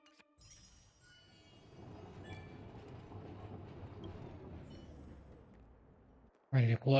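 A tram rolls along rails in the video game Honkai: Star Rail, a steady low rumble of wheels and faint clinks lasting several seconds, then a sudden short silence and a loud, abrupt burst at the very end.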